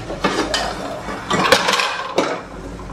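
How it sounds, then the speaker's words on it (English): Metal pots and pans clink and clatter in a kitchen beside a still, several sharp knocks and scrapes in an irregular rhythm, close and fairly loud. "You got so many pots and pans everywhere, Rosie."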